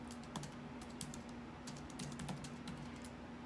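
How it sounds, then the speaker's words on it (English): Rapid keyboard typing clatters as a steady string of sharp clicks, close by, over a constant low electrical hum, with no voices. "I'm going to type it for myself."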